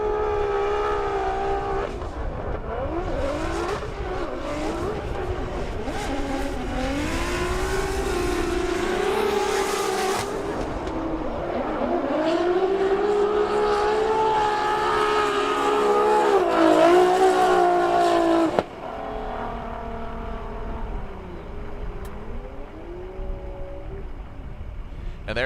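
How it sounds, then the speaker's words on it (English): The Power Drift Nissan S15, a high-horsepower Formula Drift pro car at a competition round, screams and revs hard at full throttle, its pitch rising and falling for about twenty seconds before the loud engine note suddenly drops away. "We'll lay out and listen to the Power Drift S15."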